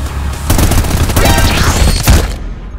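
Shotgun blasts in the shooter game Trepang2, a couple of loud, close booming shots with a whooshing sweep between them, over dense in-game noise.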